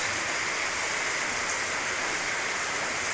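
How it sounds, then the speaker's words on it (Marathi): Steady, dense hiss of heavy rain falling outdoors, constant and close with no voices. "पाऊस बाहेर पडत आहे"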